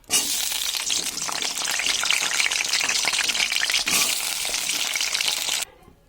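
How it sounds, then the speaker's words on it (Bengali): Potatoes dropped into hot oil in a pan, a loud close burst of frying hiss that rises and holds steadily for several seconds, then cuts off abruptly near the end. "তেলটা গরম হয়ে গেছে, এবার আমি এর মধ্যে দিয়ে দেবো আলুগুলো"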